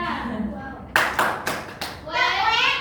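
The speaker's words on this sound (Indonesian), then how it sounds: "Kasih tepuk wow buat Nadia." Children in a classroom perform a rhythmic cheer clap for a classmate, four sharp, evenly spaced hand claps ringing out between bursts of young voices chanting and talking.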